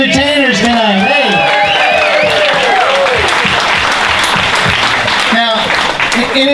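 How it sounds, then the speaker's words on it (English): Loud audience applause for a group of stage entertainers fills the room, steady dense clapping with a few cheers and whoops, and voices talking over the first half and again near the end. "let's just all together give a nice round of applause for all of these amazing entertainers tonight"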